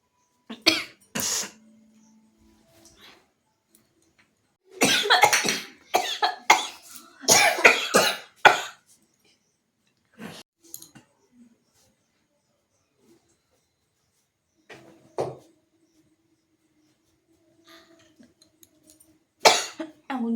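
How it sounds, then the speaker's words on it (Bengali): A person coughs in several separate bursts of close, harsh coughing while trying and failing to sneeze beside burning chili, with long quiet gaps between the bouts. "আমার শুধু কাশি হয়েই যাচ্ছে কিন্তু হাঁচি কিছুতেই হচ্ছে না"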